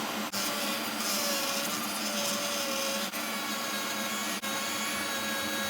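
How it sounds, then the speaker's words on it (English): A Dremel rotary tool fitted with a 932 grinding stone bit grinds steadily at high speed on a stuck Jeep Grand Cherokee headlight bulb, a loud continuous whine broken by three brief dips in tone. "I find a quick and easy method is to use a Dremel."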